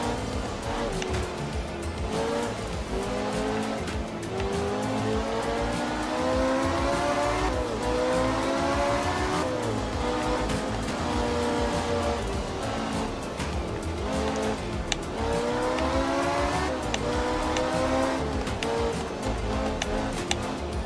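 A rally car engine in the video game Art of Rally revs continuously, rising and falling in pitch through repeated accelerations and gear changes, with occasional sharp tire noise.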